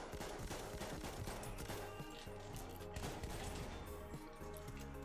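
Shotgun blasts in the Battlefield 1 multiplayer shooter at extreme close range, a dense, continuous barrage of gunfire layered over game music and battle noise, loud throughout.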